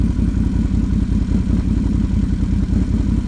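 A Can-Am Renegade XMR 1000 ATV with a quiet-series exhaust idles steadily and close by, its low engine note holding an even, rumbling pulse with no voices over it.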